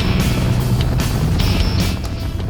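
Motorcycle riding on Arizona State Route 260 through the Coconino National Forest, a steady loud engine drone mixed with heavy wind rush buffeting the microphone, constant throughout.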